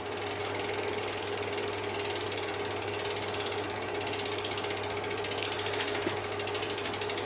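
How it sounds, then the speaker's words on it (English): A bicycle wheel spins freely with its hydraulic disc brake released, giving a steady fast ticking of the freehub pawls at even volume throughout, with a faint hum beneath. "Release the brake and spin the wheel."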